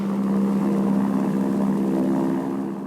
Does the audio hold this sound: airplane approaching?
yes